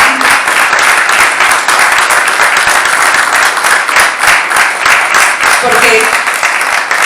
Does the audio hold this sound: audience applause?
yes